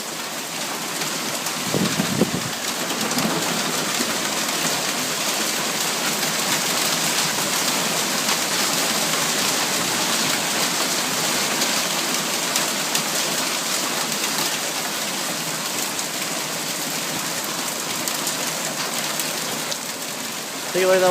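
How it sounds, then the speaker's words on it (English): A heavy hailstorm pounds down in Calgary, a loud, dense and continuous roar of hailstones hitting surfaces nearby that keeps up without a break, with a brief low rumble early on. "That's all hail."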